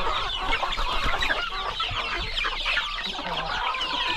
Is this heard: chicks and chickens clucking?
yes